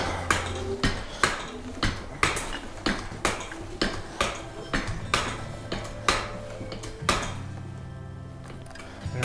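Drywall mud is pumped into an automatic taper on a gooseneck pump, with about a dozen evenly spaced metallic clanks from the pump handle, each followed by a short squelching push.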